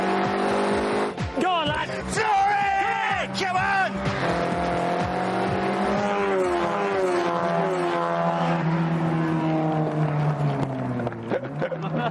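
Junkyard-built race car engine at a 12x12 junkyard grand prix, a continuous buzzing drone that rises and falls in pitch as it passes, with excited shouting voices over it throughout.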